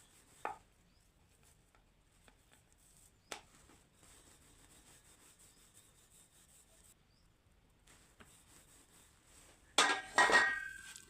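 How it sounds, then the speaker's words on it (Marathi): A ghee-greased rolling pin rolls out a sweet carrot roti on a board, making soft scraping rubs and brief knocks separated by quiet gaps, with a louder rolling burst near the end. "तर बघा अशा प्रकारे आपली पोळी लाटून तयार झालेली आहे"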